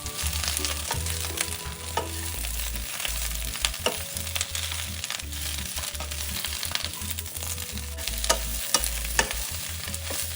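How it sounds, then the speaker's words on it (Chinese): Cabbage stir-fried over high heat in a wok, with loud continuous sizzling and frequent scraping, tossing clatter from the spatula and low rumbling flame noise throughout, up close with no one speaking. "继续将包菜快炒至微软。"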